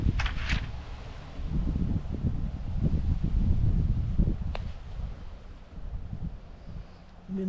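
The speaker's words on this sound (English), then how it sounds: "Wind's blowing my papers away" Wind gusts outdoors in an open-air nalbinding session, a steady low rumbling buffet on the microphone with faint rustling of loose papers, swelling and easing over several seconds.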